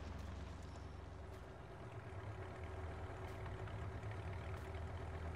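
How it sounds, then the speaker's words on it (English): A low, steady engine rumble of a truck idling in Farming Simulator 19, faint and constant with a slight throb, no voices. "It sounds like a truck."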